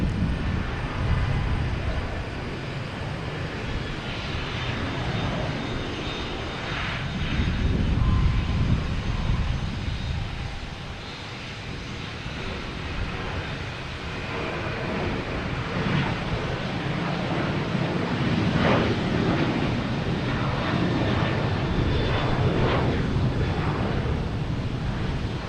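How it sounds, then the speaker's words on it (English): A Southwest Boeing 737 jet takes off at Boston Logan Airport, bound for Denver, with a broad, steady engine roar that swells and fades. Wind buffets the microphone, and no one speaks. "we have Southwest taking off heading to Denver"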